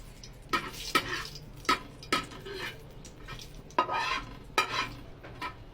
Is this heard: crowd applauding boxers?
no